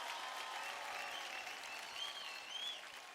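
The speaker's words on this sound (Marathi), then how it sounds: "एकदा जोरदार टाळ्या होऊन जाऊ दे" Audience on a TV dance show breaks into loud, sustained applause, a dense even wash of clapping throughout with faint cheering.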